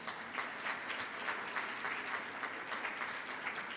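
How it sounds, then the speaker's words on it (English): Audience applause at a data privacy conference, a steady even patter of many hands clapping for nearly four seconds at moderate distance, with no voices over it. "I think a recap like that deserves a round of applause"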